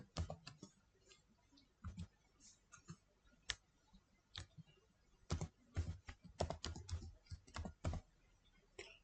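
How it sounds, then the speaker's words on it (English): Someone types an email address on a computer keyboard, giving quick irregular bursts of light key clicks with short pauses between groups. The keys sound fairly faint, with no talking. "in here, you need to type email address where you want to send mail"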